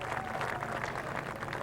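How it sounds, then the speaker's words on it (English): Crowd applause for the winner of a 6-lap dash at an All Star Circuit of Champions sprint car race in Gibsonton, Florida, a steady broad wash of clapping that holds at even loudness throughout, with no talk over it. "how about a great big round of applause for our dash winner"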